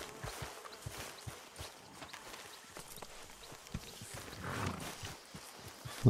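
Horse hooves clip-clop at a steady walking pace on a Red Dead Redemption 2 trail, close and fairly soft, with faint ambient background and no talking.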